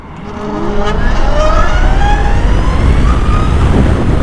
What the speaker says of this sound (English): good battery, good motor, and this is how it sounds.